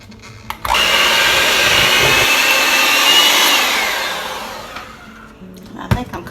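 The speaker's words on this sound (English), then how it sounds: "I'm just going to use my hand mixer" An electric hand mixer beats cream cheese frosting with powdered sugar and vanilla, a loud close whir that runs steadily for about four seconds, then slows and fades, with a few clicks and bumps after.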